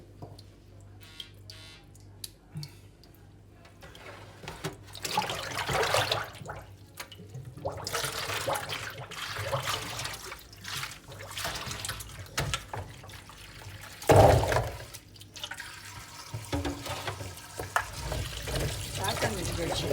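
Wild bulbs are rinsed of soil in water, with splashing and trickling running under frequent talk from several people and a louder burst of water near the middle.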